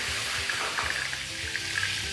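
Curry leaves and asafoetida crackle and sizzle in hot oil in a home kitchen pan, a steady close, bright hiss with small pops, and no talking.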